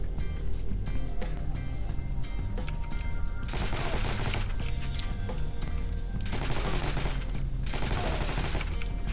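Rapid automatic bursts from a fully upgraded Thompson M1A1 submachine gun in Heroes & Generals, with two long sustained strings of loud, close fire separated by brief lulls over a steady background rumble.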